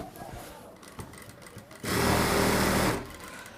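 Industrial sewing machine stitching with its presser foot, a steady loud motor whir running for about a second after quieter handling noises, then stopping.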